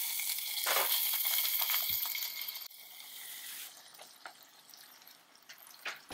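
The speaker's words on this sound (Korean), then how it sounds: "냄비에 식용유 두르고 방울토마토 넣어줍니다." Soft sizzling of halved cherry tomatoes frying in cooking oil in a pot, steady and close, with a few light pops and clicks of a utensil.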